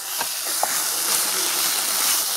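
Masala for keema sizzles in a hot pan with a steady broadband hiss and occasional soft pops, close and continuous, with no voices over it.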